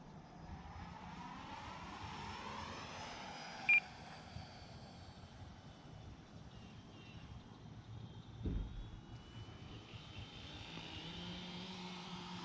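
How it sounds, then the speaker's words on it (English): An FMS T28 Trojan RC model plane's electric motor whines at full throttle in a climbing vertical, a continuous pitch sweeping up and down as it passes at a distance, with a few sharp beeps. "There goes full throttle, as you can see, and not a problem."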